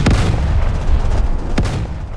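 Anti-aircraft guns in the Roblox naval game Naval 1945 fire loud booming shots, two sharp blasts standing out over a continuous rumble of distant gunfire, with no voices.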